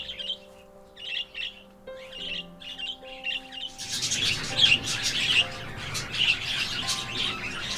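Finches chirp at a backyard winter aviary, quick high twittering calls that grow denser and busier midway, layered over a steady tonal hum earlier on.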